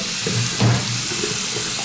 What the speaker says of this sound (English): Nice sink. Again, we have great water pressure.